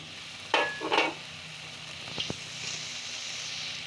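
Fried potato pieces tumble into a pan of cooked-down spiced masala for an egg and potato curry, making two quick close scraping, sizzling bursts followed by a few faint clinks over a low steady hiss.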